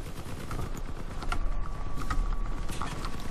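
Vehicle-mounted guns fire in Crossout, a vehicle combat game, as a steady run of mechanical bursts and clanks over a dense, loud battle din, with a faint steady tone running through the middle.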